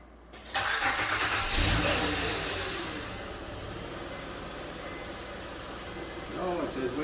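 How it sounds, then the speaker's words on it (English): A 2008 Honda Ridgeline 3.5 engine cranks and catches with a loud surge after timing belt, water pump and spark plug replacement, then settles into a steady idle hum; a voice speaks briefly near the end. "Start the engine."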